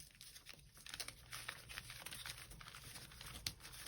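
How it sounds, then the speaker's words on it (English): A paper edge for a grungy journal page being crumpled and torn by hand, close crinkling and rustling with short ripping bursts, fairly quiet and without talk. "just lie it down and start screwing up and ripping this edge"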